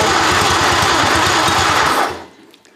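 A racing lawn mower engine still on its factory exhaust runs loud and steady with a fast, buzzing idle throughout, then cuts out abruptly near the end, leaving near silence.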